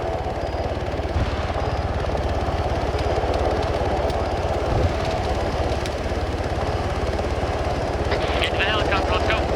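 A helicopter arriving during a nighttime airsoft operation, a loud steady rotor and engine roar filling the whole stretch, with people shouting and talking over it.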